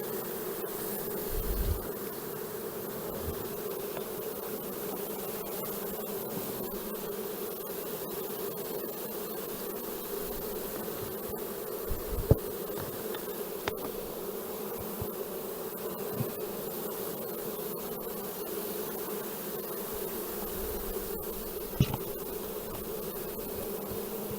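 Honey bees hum in a steady, dense buzz around a hive while a beekeeper prepares queen cells, continuous and moderately close, broken only by a few faint knocks and handling sounds.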